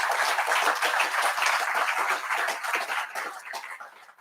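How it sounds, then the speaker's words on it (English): An audience at a county treatment court graduation ceremony applauds in a dense, sustained wash of clapping that thins and fades toward the end. "I'd like each one of you just to applaud the staff that's helped you so long."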